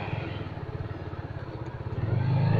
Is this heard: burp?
no